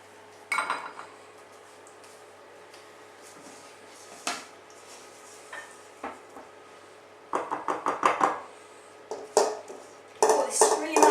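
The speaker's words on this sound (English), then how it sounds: "Just get the rest of that out with my spatula." A spatula scrapes and knocks against a bowl while pudding is cleared out, giving scattered clinks and scrapes, close and fairly faint, in uneven bursts with quiet gaps between.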